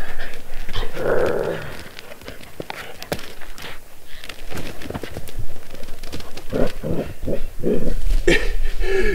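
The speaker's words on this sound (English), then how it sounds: "You hear him growling as he runs." A dog growls as it runs through the wilderness, rough bursts of snarling mixed with rapid footfalls and brushing noise, close and fairly loud throughout.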